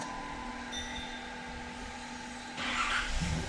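A car engine runs at a steady idle after its immobilizer key was programmed and its antenna replaced. About two and a half seconds in, the engine sound grows louder and rougher, as if it is starting or revving. No one speaks.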